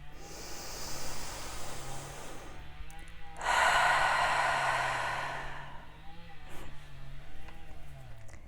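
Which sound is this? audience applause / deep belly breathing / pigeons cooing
deep belly breathing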